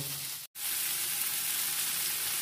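Vegetables frying in a pan give a steady, close, dense sizzle that fills the whole clip, broken only by a brief dropout near the start.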